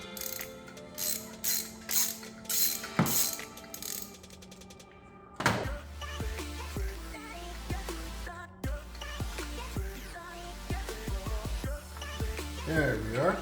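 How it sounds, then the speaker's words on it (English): A ratchet with an extension and a 9/16 deep socket works a spark plug out of a 2016 Honda CR-V 2.4-liter i-VTEC engine. Rapid clicking bursts come first, then a metallic clunk and scattered ticks and knocks, all close and fairly loud. "I'm going to get my ratchet extension and 9/16 deep socket."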